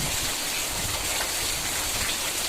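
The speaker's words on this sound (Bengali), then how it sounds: "সকাল সকাল বৃষ্টি হচ্ছে" Morning rain falls steadily, a dense even hiss of drops on surfaces that holds unchanged throughout with no voices.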